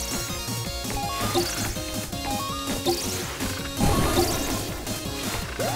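Swing and smash effects from the video game 20XX: repeated whooshing swings and crunchy impacts over busy game music and sound, with a heavier crash near the end.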